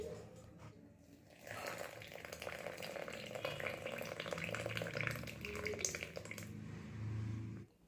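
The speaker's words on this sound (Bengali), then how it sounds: "জলটা উপর থেকে এইভাবে আস্তে আস্তে ও অল্প অল্প করে ঢেলে দিচ্ছি, যাতে ফোঁটা ফোঁটা করে নিচে চায়ের আকারে পড়ে যায়।" Hot water is poured slowly over orange tea leaves so the brewed tea trickles drop by drop into two cups. A soft, steady watery trickle and faint dripping runs almost throughout, with a low hum underneath and no talking.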